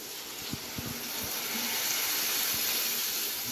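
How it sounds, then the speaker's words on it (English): Water from a glass poured into a pan of Maggi noodles on the stove, a steady close hiss and gush with a few faint knocks at the start. "And I'm going to add this one glass of water in."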